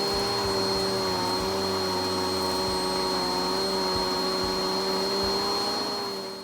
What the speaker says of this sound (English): I'll turn the vacuum cleaner on.